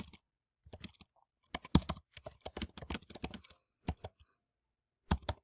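Bursts of keystrokes on a computer keyboard, irregular clusters of clicks with short pauses between them, close and fairly quiet, with no talking.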